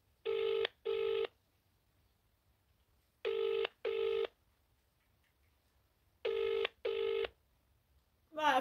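A dentist's office telephone rings unanswered: three paired bursts of electronic ringback tone, each pair two short buzzes, spaced evenly by quiet gaps, clear and fairly close over a faint background hum.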